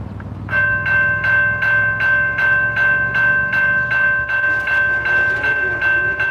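A CSX or Norfolk Southern freight train passes trackside at Wauhatchie, its steady rumble joined by regular clickety-clack beats from the wheels and a constant bell-like tone sounding throughout, close and loud with no talking.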